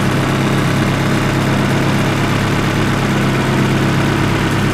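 A hatchback car's engine idles steadily up close just after a cylinder head swap, a loud continuous low rumble with a dense vibrating drone and no talk.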